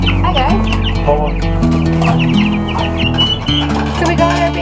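Chicks and turkeys clucking and peeping in a shed converted into a chicken coop, a dense, continuous chorus of close, overlapping bird calls with occasional louder cries throughout.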